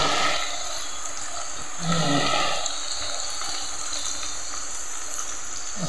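Jackfruit chips frying in hot oil, a steady broadband hiss with a brief louder surge near the middle, no voices.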